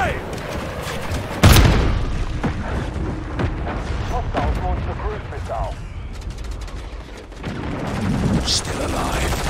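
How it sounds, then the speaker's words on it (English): A sudden loud grenade blast in Call of Duty Modern Warfare 3, a sharp boom early on followed by scattered gunfire and game chatter, with voices speaking over the fight. "Grenade!"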